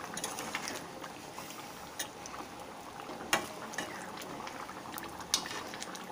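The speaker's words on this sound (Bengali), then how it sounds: "তো এটা একটু ফুটে যাক" Egg curry simmering in a pot, a steady bubbling with scattered pops and a few sharper clicks, close and moderately quiet, no talk.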